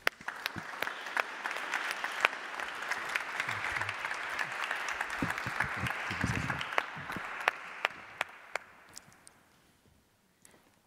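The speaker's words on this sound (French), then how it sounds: "On peut l'applaudir." A church congregation applauding during a confirmation service, sustained clapping from many hands that starts at once, holds steady and thins out to a few last claps near the end, with no voices over it.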